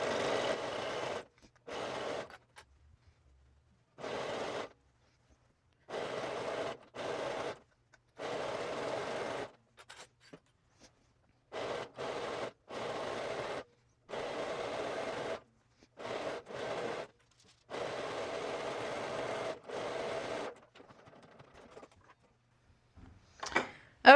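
A sewing machine stitches elastic into the waist of a Cashmerette Irving dress, running in short bursts of steady whirring separated by brief pauses.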